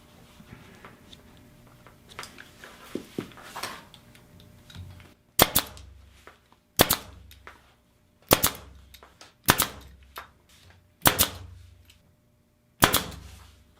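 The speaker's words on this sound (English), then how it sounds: "And we'll start firing in these staples." A staple gun drives staples through pool table cloth, delivering six sharp, loud snapping shots spaced about a second apart, preceded by soft handling and rustling of the fabric.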